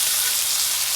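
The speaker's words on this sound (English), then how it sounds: "take that butter and start basting your steak" A steak sizzles in a pan of melted butter and garlic while it is basted, a steady, close, dense hiss with no pauses.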